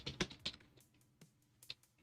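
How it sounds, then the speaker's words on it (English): Keys clatter on a computer keyboard in a short irregular burst of crisp taps, close and fairly loud, then sparser clicks trailing off with pauses between. "Okay, I'm getting used to this keyboard."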